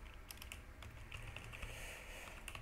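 Quiet typing on a computer keyboard while writing a short program, with a steady patter of light key clicks spread across the whole stretch over a faint background hum and no talk.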